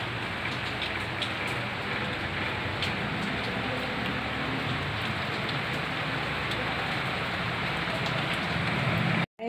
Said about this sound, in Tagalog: Umuulan, may bagyo na naman yata.